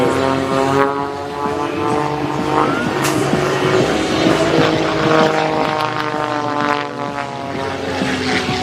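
A Royal Canadian Air Force propeller trainer flies an airshow display, its engine droning loudly with shifting pitch as it passes and maneuvers overhead.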